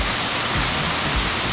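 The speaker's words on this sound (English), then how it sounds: "an awesome waterfall." A large waterfall in Jardín, in Colombia's coffee region, gives off a steady, loud, broadband roar of rushing water that stays constant throughout with no voices.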